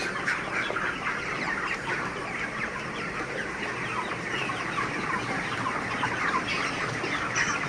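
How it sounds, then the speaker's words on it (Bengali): A shed of about 620 broiler chickens, around 28 days old, fills the air with dense, constant clucking and chirping from many birds at once, loud and unbroken, with no talking. "এখানে 620 পিসের মতো মুরগি আছে"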